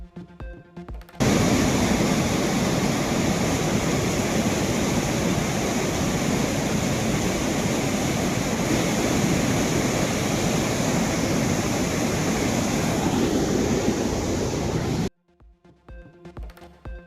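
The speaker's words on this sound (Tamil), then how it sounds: "நாகர்கோவிலில் உள்ள குமரி அணை மதகுகளில் ஆர்ப்பரித்து" Water gushes through the sluice gates of the Kumari dam at Nagercoil during heavy monsoon rain, a loud continuous roar that starts and stops abruptly with no voices.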